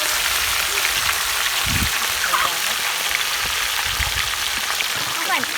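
Fish frying in hot oil, a steady dense sizzle with crackling spatter running throughout, close and fairly loud, with a few low thumps.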